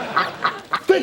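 A voice imitates a duck with four short nasal quacks in quick succession, close and loud.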